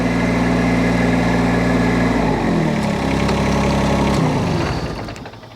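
A mini excavator's engine idles with a loud, steady low rumble and harmonic drone, its pitch shifting slightly midway before the sound fades toward the end.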